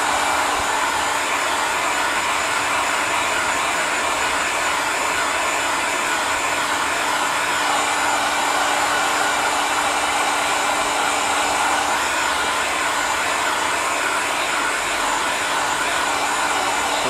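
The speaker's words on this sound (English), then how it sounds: "give me a good idea of when it's time to stop using the heat gun" A heat gun blows steadily and loudly without a break, warming a car badge so it can be removed, a constant rushing whine with no talk over it.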